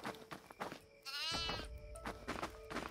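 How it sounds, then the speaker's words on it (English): A goat in the horror video game Devour lets out one clear, wavering bleat in the middle, with fainter clattering game sounds before and after it. "Where'd that goat go?"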